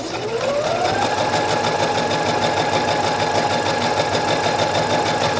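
A sewing machine stitches a French seam, its motor ramping up quickly, then running in a loud, fast, steady rhythmic whir of needle strokes close by.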